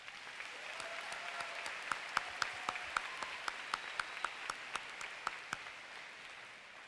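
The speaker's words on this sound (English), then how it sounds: "Let's give them a round of applause." Applause for a high school choir at a graduation ceremony, a fairly faint, steady patter of many hands with a few sharper claps standing out in a regular rhythm, fading slightly toward the end.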